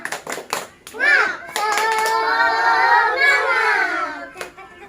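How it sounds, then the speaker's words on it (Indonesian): A primary school class does a rhythmic spirit clap during a microteaching lesson, children's voices chanting together in bursts with claps, near and fairly loud. "Kita tepuk semangat dulu ya"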